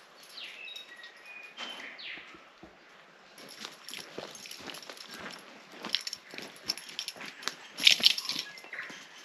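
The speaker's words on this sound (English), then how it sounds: "But just listen to those birds." Birds chirping and calling in wet bush, scattered bright tweets over footsteps on soggy ground, growing busier and closer toward the end.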